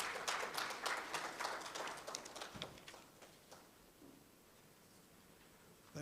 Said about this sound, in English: With a big round of applause, please help me welcome Dr. Nkrumah Mills.